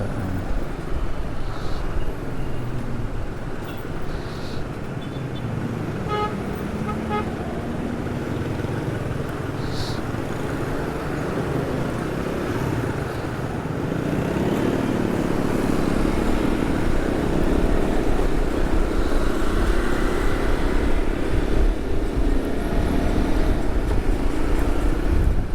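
Jammed, busy street traffic on a hot day along an alternative route to Undip near Graha Candi Golf in Semarang, a steady loud roar of engines with no clear honks standing out.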